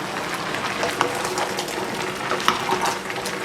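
A large pot of chicken curry with tomatoes and turmeric being stirred, its thick contents bubbling and sizzling under a spoon that scrapes and knocks against the pot a couple of times.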